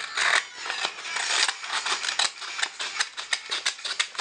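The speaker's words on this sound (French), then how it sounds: "Là c'est que du découpage, mais c'est la dernière phase de découpage." Scissors snip paper while an origami shuriken is cut out, giving a quick, irregular series of crisp, close cuts and rustles, with no voices.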